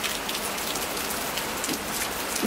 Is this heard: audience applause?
no